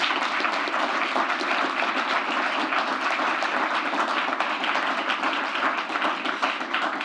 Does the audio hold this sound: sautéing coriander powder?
no